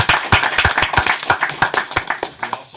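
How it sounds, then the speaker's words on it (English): A small city council meeting audience in Riverdale, Utah gives a short round of clapping for a retiring planning commissioner, with distinct, fairly close individual hand claps in an uneven rhythm. "I'd like to give her a round of applause for that"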